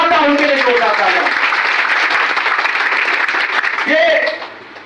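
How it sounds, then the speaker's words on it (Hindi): Audience applause at a company event honouring two mentors, loud clapping and cheering with a voice talking over the start and end, fading out at the close. "मैं चाहता हूं उनके लिए जोरदार तालियां"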